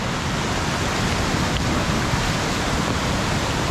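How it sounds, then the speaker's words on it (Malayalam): Triple Waterfalls at Nariyampara send up a loud, steady roar of rushing water, a dense unbroken wash of sound with no voices. "നമുക്ക് ഇവിടെ നിന്ന് കാണാട്ടോ വാട്ടർഫോൾസിൻ്റെ ചെറിയൊരു ഭാഗം മാത്രം"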